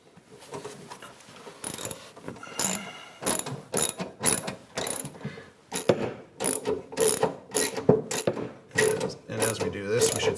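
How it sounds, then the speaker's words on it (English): Socket and ratchet on a 13mm extension turning the back rollers of an appliance, a series of quick clicking ratchet bursts in uneven strokes, close and crisp with brief pauses between. "you do that by means of a socket and ratchet, 13mm extension or socket on the end of the extension that engages the back rollers"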